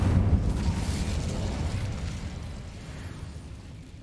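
A fire spell cast in Hogwarts Legacy on PS5: a low, roaring whoosh of flame bursts out loud and close, then rumbles and slowly fades over several seconds.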